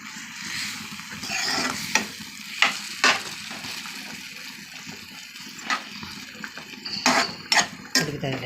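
Marinated chicken pieces, mixed with salt and turmeric, sizzle and fry in ghee in a pan, with a steady hiss under repeated scraping stirs and a few sharp clinks of the spoon against the pan.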